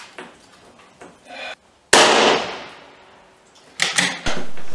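A rifle being zeroed fires a single sharp, loud crack that rings off and decays, set among quieter handling noises and clicks before and after.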